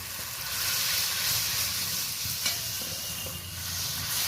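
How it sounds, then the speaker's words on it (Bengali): Hot water poured into a pan of oil-and-chili koi fish curry, a loud continuous hiss and sizzle with bubbling and stirring clatter throughout, close up and without talk. "এবার জল দিয়ে দিচ্ছি গরম করে রেখেছিলাম"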